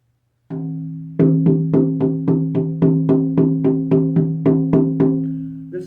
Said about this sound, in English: we have a few 13-inch deer drums.